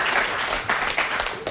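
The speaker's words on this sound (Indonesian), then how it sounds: "ya tepuk tangan." A studio audience applauds on an Indonesian political talk show about a cabinet reshuffle, a steady wash of dense clapping with no voices.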